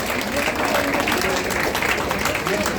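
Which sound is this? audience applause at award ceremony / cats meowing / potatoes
audience applause at award ceremony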